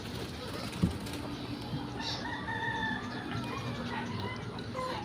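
Chickens cluck and a rooster crows at moderate distance over outdoor background noise, with a brief knock near the start.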